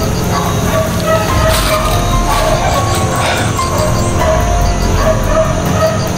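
Several guard dogs bark and yip repeatedly, with rapid overlapping calls set against a loud, busy background din.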